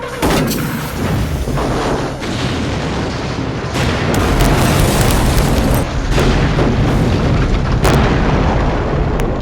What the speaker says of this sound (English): at least the explosion and the pyrotechnics looks really great